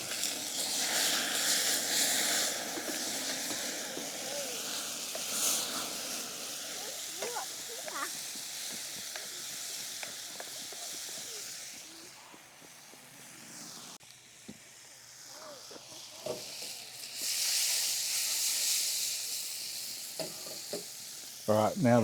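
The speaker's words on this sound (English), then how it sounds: "Let that alcohol cook out." Spiced rum mushroom sauce bubbles and sizzles in a pan at an outdoor camp cook, the hiss swelling and easing as the alcohol cooks off, with a voice talking over parts of it and a few sharp clicks near the end.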